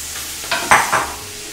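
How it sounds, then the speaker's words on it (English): Mushrooms and shrimp being sautéed in a pan for a vintage Betty Crocker shrimp dish, with a soft steady sizzle broken by a few short scraping stirs, close and fairly loud, with no talk. "The mushrooms actually look good now that they're being sauteed."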